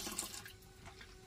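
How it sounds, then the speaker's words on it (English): Liquid biodegradable treatment pours into an RV toilet as a steady, soft watery splashing and trickling, close by and without talk. "Let's go ahead and pour it in."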